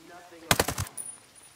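A short burst of rapid automatic gunfire in the tactical shooter Ghost Recon Breakpoint, four or five quick cracks in under half a second, fairly quiet, followed by a thin high electronic tone.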